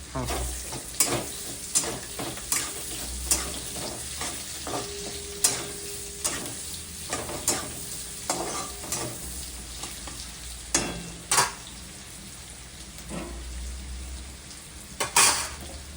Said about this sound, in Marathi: याला चांगलं फ्राय करून घ्यायचं आहे कांद्याला